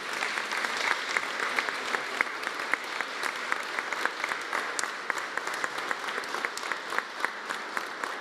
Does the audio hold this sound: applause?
yes